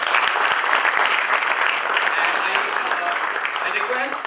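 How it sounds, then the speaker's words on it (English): Sustained applause from a lecture audience at a university tech festival in IIT Bombay, a dense, even wash of many hands clapping that holds steady and loud throughout, tapering slightly at the end. "please give a big round of applause for Mrs. Andrea."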